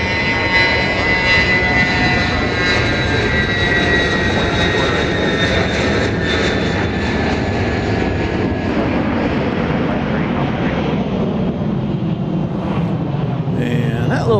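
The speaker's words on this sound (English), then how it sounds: "hot biz jet action over here on the east side. Cessna Citation Latitude" NetJets Cessna Citation Latitude business jet at Dallas Love Field, a strong jet engine roar with bright whining tones that slowly fall in pitch as it passes, easing off toward the end.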